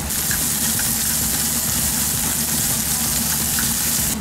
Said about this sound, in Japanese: 早速ベーコンとあと玉ねぎも炒めていきます